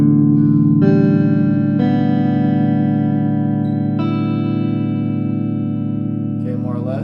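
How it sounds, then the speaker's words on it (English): Open strings on a beginner's guitar are struck one at a time, each new note entering about every second and ringing over the previous ones into a sustained, shimmering wash. "I'll ring them out one at a time. It should sound like this."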